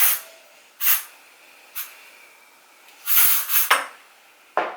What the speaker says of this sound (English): we're just going to spray it in a little bit more